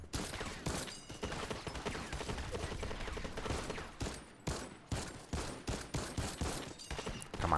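Rapid bursts of gunfire from the video game Fortnite, with dense repeated shots that become sharper and more evenly spaced toward the end, loud and close with no talking.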